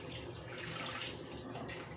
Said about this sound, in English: I'm going to slowly pour the milk in